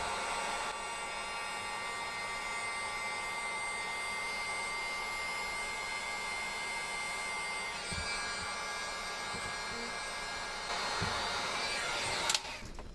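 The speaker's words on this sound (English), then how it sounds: "I'm going to try heating it up with a heat gun and then trying to slide it in" Heat gun blowing on a tight rubber grommet of a Pontiac Fiero fuel system, a steady close whooshing hiss held for several seconds with a couple of small knocks near the end.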